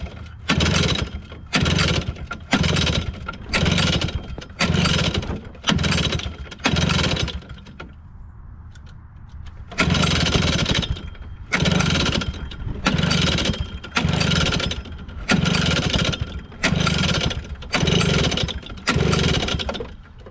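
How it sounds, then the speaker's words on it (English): A 1992 Arctic Cat Kitty Cat snowmobile engine, run without its chain, revs in repeated short bursts, each loud buzzing rise cut off sharply, with a brief idling pause midway before the rhythmic blipping resumes. "we can at least rev the engine"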